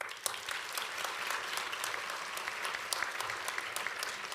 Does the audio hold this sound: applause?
yes